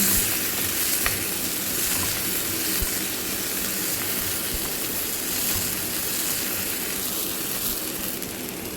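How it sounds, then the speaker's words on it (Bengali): Carrots cut into long strips and potato rounds frying lightly in ghee, a continuous close sizzle with soft crackles and faint stirring, even in level with no voices. "ঘিয়ের মধ্যে একটু গাজরকে লম্বা লম্বা করে কেটেছি, আর আলুকে একটু গোল গোল করে কেটে এটাকে একটু হালকাভাবে ফ্রাই করে নেব"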